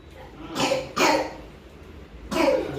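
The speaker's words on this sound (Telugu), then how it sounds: "దగ్గు వస్తుందా" Three short, close coughs from a child, the first two quick in succession and the third after a pause.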